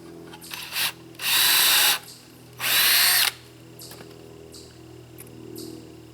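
Two sustained bursts from a power drill driving lag bolts into pallet wood for a picket fence gate, each lasting under a second, loud and close, with brief lighter tool whirs before and faint ones after.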